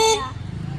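A vehicle horn toots briefly on a road during a Yulu ride to a temple, loud and close, then cuts off into engine and road rumble.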